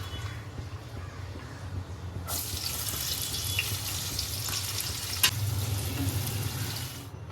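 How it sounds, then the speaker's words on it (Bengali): Onions sizzle in a pan of oil and ghee, fried crisp for Bengali lobongi polao; a low kitchen hum gives way to a sudden loud, steady hiss of frying that runs unbroken to the end, with one sharp click midway. "এবারে এর মধ্যে আমি পেঁয়াজটা ভেজে নিচ্ছি"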